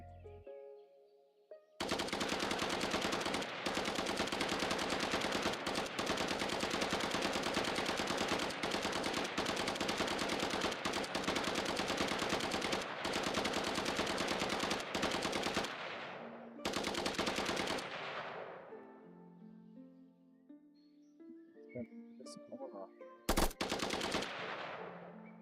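Sustained rapid gunfire from enemies in an Unreal Engine 5 top-down shooter video game, loud and dense for about fourteen seconds, then brief bursts and a final sharp shot amid quieter game tones.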